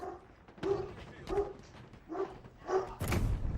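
A dog barks in a series of about five sharp, evenly spaced woofs close to the microphone, loud and without talk, heard during an online multiplayer capture-the-flag game session.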